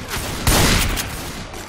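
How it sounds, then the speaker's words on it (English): Video game gunfire rattles out in a loud volley of rapid shots, with a heavier burst near the middle and continued firing afterward, without talk. "Why are you shooting me?"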